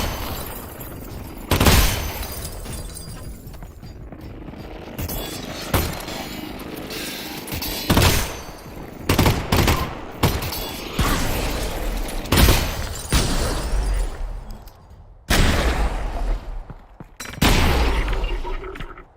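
Repeated loud gunshots and booming explosions fill a battle against manhacks in the VR shooter Half-Life: Alyx, firing in irregular bursts and single blasts with brief lulls between.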